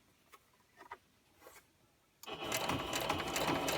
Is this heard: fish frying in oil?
no